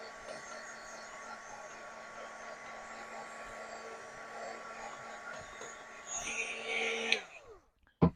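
Heat tool blowing hot air over a freshly stamped card, a steady droning whoosh that runs for about seven seconds, shifts in tone near the end and then cuts off, with faint talk underneath.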